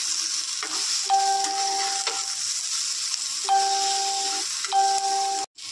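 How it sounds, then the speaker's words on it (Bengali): Kalonji, ajwain and green chilli fry in a hot pan with a continuous close sizzle. Short ringing tones chime over it a few times, and the sizzle cuts out abruptly near the end. "এবার ভেজে নেব।"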